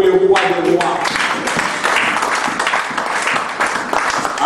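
A church congregation bursts into loud, sustained applause after a brief spoken line, the dense clapping holding steady and close for several seconds.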